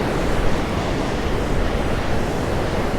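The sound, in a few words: ocean waves breaking along the coast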